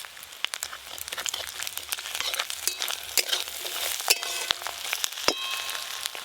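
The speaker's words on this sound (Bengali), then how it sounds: "মাঝখানটা একটু ফাঁকা করে ফোড়ন করে নেব" Five-spice seeds tempering in hot oil for a fish curry crackle and pop in dense, irregular bursts, close and steady throughout, with no voices.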